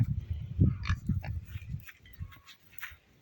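Piglets on a farm grunt and squeal close by in a busy cluster of short calls that grow sparser and quieter toward the end.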